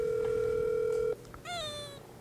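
A telephone dial tone holds a steady, loud electronic hum for about a second, then cuts off, followed by a short rising-and-falling call tone.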